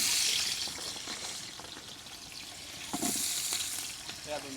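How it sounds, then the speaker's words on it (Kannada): Hot oil sizzles in a pot for biryani on a village cooking stove: a close, continuous hiss and crackle with a few brief stirring clinks, and no voices over it. "ಹಿಂಗೆ ಸೌಂಡ್ ಬರಬೇಕು ಎಣ್ಣೆ ಕಾದಿರೋದು"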